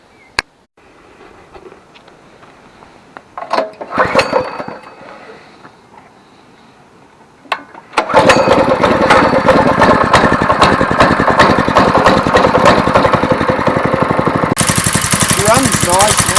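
A repaired go-kart's small engine, fitted with a new clutch and drive sprocket, catches after a few attempts and settles into a loud, steady, buzzing idle close by, with faint speech before it starts.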